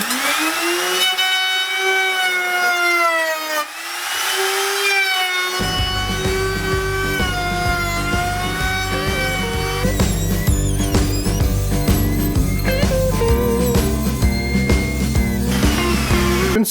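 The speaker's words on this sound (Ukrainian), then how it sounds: "встановив ще одну фрезу з підшипником і попробуємо зараз, як буде з нею фрезер працювати" A Pro Craft hand router fitted with a bearing bit spins up with a rising harmonic whine, then cuts into wood with a loud, gritty, fluctuating roar that stays close and continuous with no talk.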